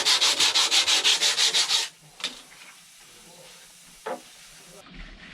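An abandoned sailboat's surface is sanded by hand in a fast, even run of about a dozen loud rasping strokes, close by, followed by quieter scuffs and knocks.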